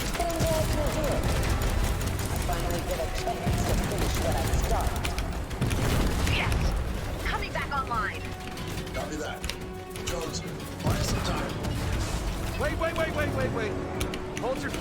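A Fortnite video game cutscene fills with rumbling booms and bursts of gunfire, explosions and mechanical clatter, dense and loud, while characters speak over the din.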